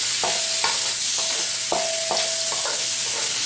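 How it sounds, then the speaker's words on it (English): Green onions with ginger and garlic paste sizzle steadily in a hot pan while a utensil scrapes and stirs them in quick, repeated strokes, close and clear, with no voices. "I'm also going to add my green onions, and we're going to give them a quick stir."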